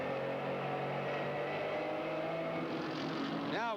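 A GT race car at Portland International Raceway roars steadily under throttle at a distance, its engine note holding and shifting slightly before a short rising rev near the end.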